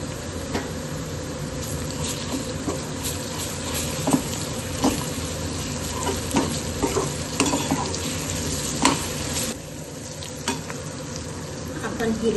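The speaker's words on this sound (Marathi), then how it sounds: "बारीक चिरलेला कांदा झालेला आहे. यामध्ये घालूया लसूण अद्रकची पेस्ट" Garlic-ginger paste sizzles in hot oil with finely chopped onion in a pan, a steady close frying hiss broken by scraping stirs throughout, with no talking.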